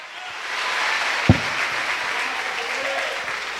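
A church congregation at a Sunday service applauds in a broad, steady wash of clapping, with one loud thump partway through and faint voices mixed in.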